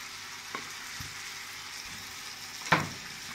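Chicken liver stew with cinnamon frying in a pan, a low steady sizzle with a few soft stirring scrapes and one sharper knock of the utensil near the end.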